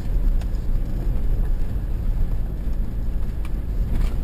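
An off-road vehicle grinds through mud on the Orhaniye village trail up Uludağ, its engine a steady, heavy low rumble with rough texture throughout and no voices.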